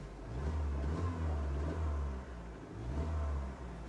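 A salvage car engine is revved, with a deep low rumble that swells and eases in two or three repeated pushes, fairly close.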